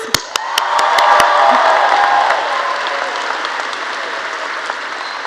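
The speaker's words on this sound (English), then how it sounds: "let's give him one more round of applause" A large crowd applauds at a high school graduation ceremony, with a few sharp, close claps at the start, then loud, sustained clapping and some cheering that slowly thins and fades.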